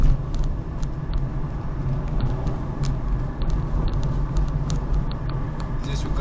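Car driving along a road during a driving lesson, with a steady low engine and road rumble heard from inside the cabin, continuous and fairly loud, with no talk.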